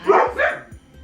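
A dog barks twice at night, sharp close barks in quick succession, followed by a short low rumble as it fades.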